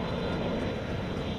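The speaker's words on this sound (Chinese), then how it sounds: "飞机缓缓降落，日本航空 JL809 班机4号下午1点58分抵达桃园机场" A Japan Airlines passenger jet, flight JL809, descends to land at Taoyuan Airport, its engines giving a steady, loud roaring drone with no voices over it.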